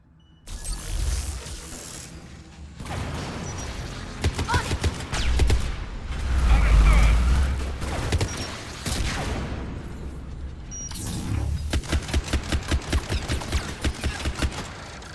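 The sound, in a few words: rockets and gunfire in the video game Mass Effect 3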